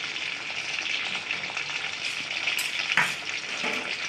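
Homemade banana chips fry in oil with a dense, steady hissing sizzle, close up, and a brief louder crackle near the end.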